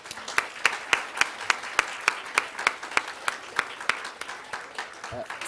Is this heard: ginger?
no